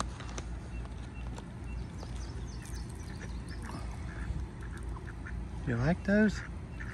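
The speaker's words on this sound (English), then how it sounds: "Here come my ducks." Ducks quack in a short burst near the end while eating mealworms outdoors, preceded by rustling and background noise; a person speaks briefly.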